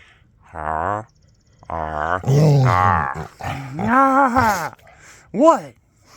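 A puppy growls and grumbles playfully in several close, throaty bursts with rising and falling whiny tones, separated by short pauses.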